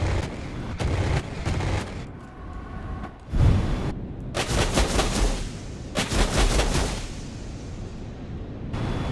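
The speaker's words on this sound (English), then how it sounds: "the sound just completely cuts off and freaks the hell out when you fire the gun" Rapid gunfire from an aircraft gun in a flight combat game, coming in loud broadband bursts separated by abrupt dropouts where the sound glitches and cuts off, then returns.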